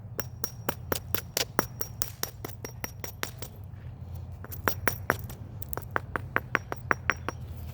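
Hammer strikes on stone during spalling, a rapid run of sharp, ringing clinks that pauses briefly midway and then resumes, close and clear over a low background hum.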